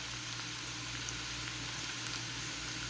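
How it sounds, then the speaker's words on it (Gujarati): Steady, even sizzling of garlic frying in hot oil, close and continuous for the whole stretch, with a low hum underneath. "લસણ થોડુંક શેકાવા દઈએ"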